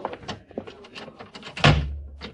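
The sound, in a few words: door closing in radio drama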